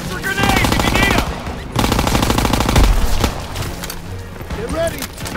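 Call of Duty WWII game combat with loud, sustained machine-gun bursts and rifle shots in two long volleys, under shouted soldier dialogue.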